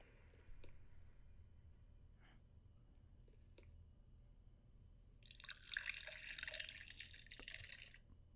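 Water drips faintly in a quiet video game scene, a few isolated drops, followed by a louder rushing, hissing water stream near the end.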